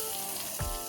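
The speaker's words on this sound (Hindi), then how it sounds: "अब तड़के को डालेंगे चटनी में।" Hot South Indian-style tempering poured into fresh coconut chutney, a short burst of sizzling and crackling that rises suddenly and spreads low, close and fairly loud, with no talking.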